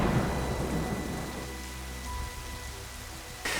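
Heavy rain pours down across a residential building site on a wet morning, a dense steady wash of drops with deep rumbling underneath that eases slightly partway through, no voices.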